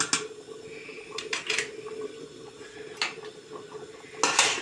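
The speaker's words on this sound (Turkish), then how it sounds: "Kapağını böyle koyuyorum." A lid is set on a cooking pot on the stove, with a few sharp metallic clinks and taps scattered over several seconds, close and fairly crisp.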